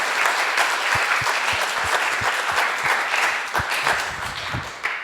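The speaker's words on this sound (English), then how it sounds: "One more round of applause for Zack Ferland." A conference audience at the MIT Bitcoin Expo 2014 applauds a speaker with steady, full clapping that stays loud for several seconds before thinning slightly near the end.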